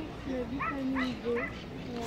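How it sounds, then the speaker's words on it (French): A small dog gives a few high yips and whimpering barks outdoors near a pond with palm trees, under and between people talking. "Ah, elle a vu un petit chien qui arrivait, Nounouï."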